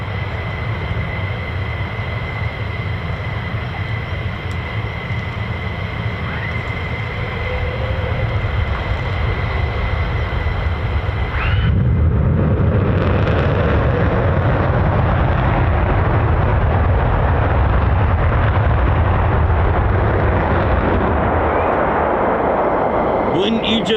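F-15 and F-35 fighter jets taxi at RAF Lakenheath, a loud, continuous jet-engine roar and whine that swells noticeably about halfway through as a nearer aircraft rolls by.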